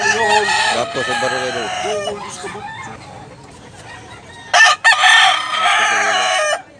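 Roosters at a cockfighting market in Cebu, Carbon Market, crowing loudly and repeatedly nearby, with a man's brief remark over the birds and more crowing afterward.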